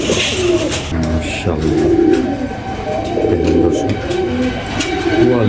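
Giribaz fancy Pakistani pigeons coo in repeated, rhythmic bursts close by, while someone talks over them throughout.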